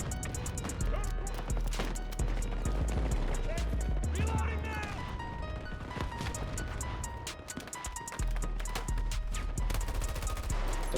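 Gunfire from an online shooter video game crackles in rapid, repeated bursts against a busy backdrop of game music and effects, close and fairly loud, with a player talking excitedly over the action.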